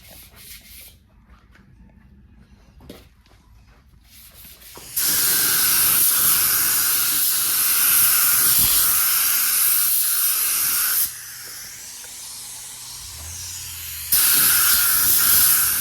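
Spray gun laying a silver base coat on a Harley Electra Glide Ultra Classic being customized into street-glide styling, producing close, loud continuous hissing passes, one long pass, a brief pause at lower level, then another burst.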